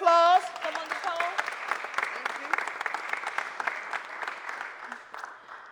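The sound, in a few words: audience applause at a press conference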